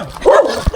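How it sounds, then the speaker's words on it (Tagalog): A single short dog bark, close and loud, with a brief whimpering tone and a quick second yip at the end. "Ngayon ang aso guys."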